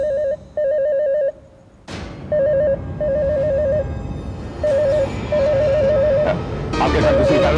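A telephone rings in a crime drama scene, with repeated electronic trilling bursts separated by pauses and a loud clatter partway through, continuing under background noise.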